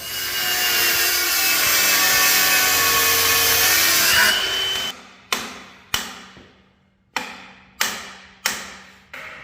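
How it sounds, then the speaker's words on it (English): A flap disc on an angle grinder sands excess metal off a Sterling 10.5 one-ton axle, a loud steady abrasive whine for several seconds, then stops and gives way to a series of sharp ringing metal strikes. "take a flat disc and sand all this excess down"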